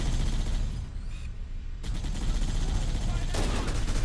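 Bursts of rapid automatic gunfire from a vehicle gunner in Halo: Combat Evolved, two sustained fusillades separated by a short lull, with loud game effects and someone talking underneath.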